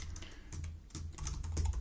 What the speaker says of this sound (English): Talking and typing at the same time, not always this easy.